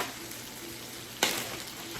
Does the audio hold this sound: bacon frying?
yes